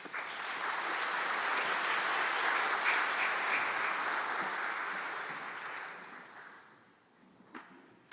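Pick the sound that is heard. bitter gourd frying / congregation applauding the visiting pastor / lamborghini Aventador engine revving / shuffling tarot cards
congregation applauding the visiting pastor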